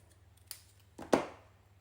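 Scissors trim a piece of paper card in a couple of quick, close snips, the last one sharpest, against a quiet background.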